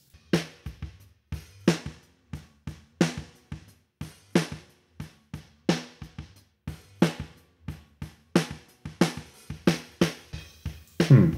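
Snare drum captured through a vintage-style microphone with a slightly distorted top end, struck alone in a steady groove of sharp, close, loud hits with bright snare-wire rattle and quieter ghost strokes between the accents.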